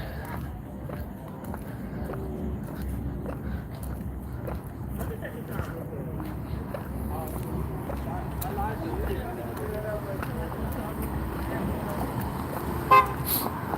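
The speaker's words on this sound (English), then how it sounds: "Don't honk at me, motherfucker." A car horn toots briefly near the end over steady street traffic noise, with people talking nearby.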